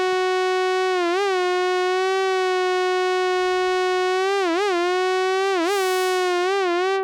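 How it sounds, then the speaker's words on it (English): A sustained electronic tone through a lo-fi pedal's random pitch-modulation wow effect, its pitch wobbling unevenly, dipping and bending at irregular moments, loud and alone. "It's sort of random vibrato, sort of random pitch modulation."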